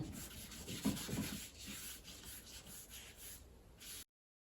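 A chamois rubbed over a charcoal drawing to soften edges, making soft, close brushing and scuffing strokes in an uneven rhythm, faint overall, ending abruptly in silence.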